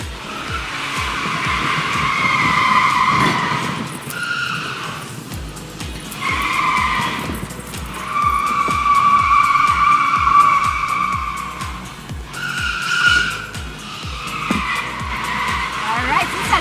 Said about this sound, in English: What I'm going to do is hit the brake and the gas at the same time to really make it scream, and we're just going to take off really fast.